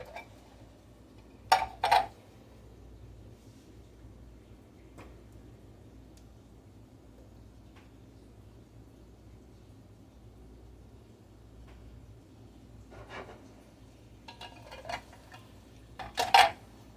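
Opened cans are emptied into a cooking pot: a few sharp metallic clanks and scrapes near the start and again at the end, with quiet room background and faint taps between.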